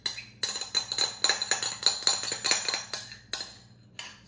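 A utensil scrapes and clinks against a bowl while dressing for a macaroni salad is emptied out, giving a quick run of sharp metallic taps and scrapes, close and fairly loud, then a couple of final knocks.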